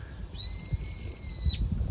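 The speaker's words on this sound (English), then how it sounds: "What kind of bird are you?" On an island, a bird that may be an owl gives a single sustained whistled call lasting about a second, clear and fairly close above a low outdoor background rumble.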